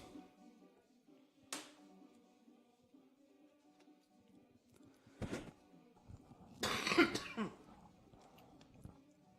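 A baseball commentator coughing into a muffled mic during a college game broadcast, a few sharp isolated coughs and throat clears spaced apart over a quiet background, the last one loudest.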